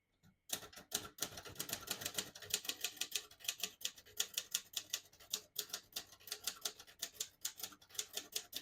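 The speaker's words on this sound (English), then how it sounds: "Beautiful typing machine. Very fun to type on." Brisk typing on a 1956 Royal Quiet De Luxe portable typewriter, a steady run of sharp mechanical key strikes with slight irregular rhythm, close and alone with no voices.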